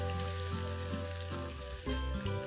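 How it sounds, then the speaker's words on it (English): Crushed garlic hitting hot ghee in a pan for dhaba-style palak saag, a dense, steady sizzle heard up close, with a slight swell near the end. "once the ghee heats up, add in the crushed garlic to begin with"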